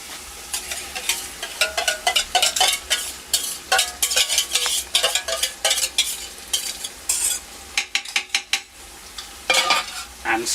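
Yogurt being stirred into a lamb curry in a pot, loud wet scraping strokes in an uneven rhythm with spoon knocks against the pan, close and without talk.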